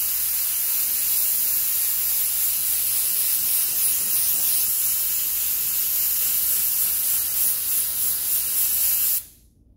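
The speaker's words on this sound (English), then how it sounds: "So one of the ways to glue the back is to fold it in half, spray a glue." Upholstery glue sprays steadily from a spray can onto folded fabric for an auto seat insert, a loud continuous hiss that runs alone for several seconds before cutting off abruptly.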